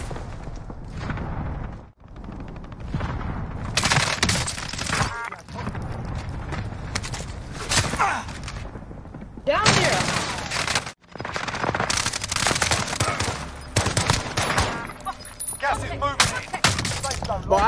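Gunfire rings out in a battle-royale video game as shots and bursts come in dense, repeated volleys, broken by short pauses, with players talking over the action.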